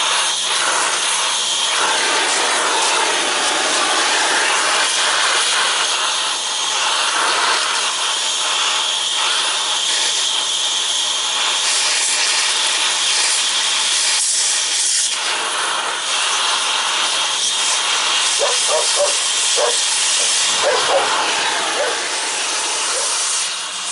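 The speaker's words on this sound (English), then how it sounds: "So I'm going to use the acetylene on this because I don't want to damage the spindle." An acetylene cutting torch burns through the hub on a 1997 big truck, giving a loud, steady roaring hiss that runs without a break, with faint clanks in the background.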